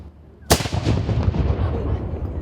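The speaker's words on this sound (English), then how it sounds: "So we're a living history artillery company that portrays a group of artillerists or mercenaries for the king that came over during the Revolutionary War and fought for King George." Cannon fired by a Revolutionary War reenactment artillery company at an outdoor town festival, one loud sudden boom followed by a long rumbling echo over crowd noise.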